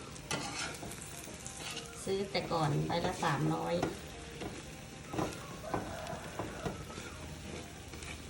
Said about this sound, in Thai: เจียวไข่ใส่ ต้นหอมนะคะ